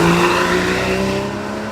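A Porsche Boxster S with PDK gearbox drives along the winding Cap Corse road, its engine giving a loud, steady droning howl heard close up from the car, fading slightly toward the end, with no talk over it.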